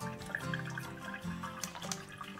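Gutted fish rinsed under running water in a sink, with soft splashing and trickling, fairly quiet and close.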